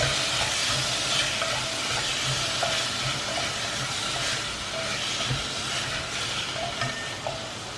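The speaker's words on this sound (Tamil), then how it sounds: "இந்த 2த்தையும் போட்டு ஒரு 30 செகண்ட்ஸ் வதக்கிடுவோம்" Vegetables sautéing with salt and turmeric in a pan for a Kerala varutharacha sambar, a steady loud sizzle and frying crackle with occasional stirring scrapes running through the whole stretch, no talk.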